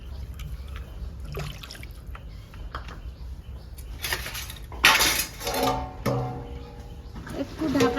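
Water poured and trickling into a pot of mustard paste while cooking, with metal pot clinks and splashing, fairly faint and mixed with kitchen noise and a voice talking.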